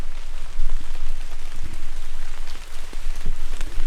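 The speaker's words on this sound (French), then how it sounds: "de la pluie" Rain falling in a forest, a close, steady patter of drops on leaves and ground with scattered louder individual hits.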